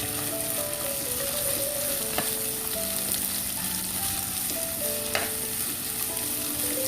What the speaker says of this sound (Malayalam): സവാള ഇത്രയും നമുക്ക് ഇതിലേക്ക് വഴറ്റി ഒന്ന് വഴക്കിയെടുക്കാം